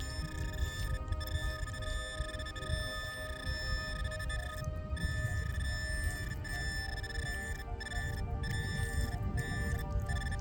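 A Minelab Equinox metal detector sounds steady electronic target tones, several sustained pitches held together, with brief dropouts while searching for relics in the ground.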